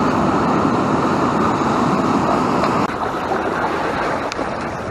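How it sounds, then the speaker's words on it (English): Steady, loud roar of ocean surf on the shore at Morro Bay, a continuous broadband wash with no voices, easing slightly in the second half. "Looks like those waves keep backing off."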